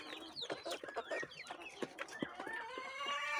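Three roosters clucking in a farmyard, a quick run of overlapping clucks and short calls at moderate distance, with faint background noise.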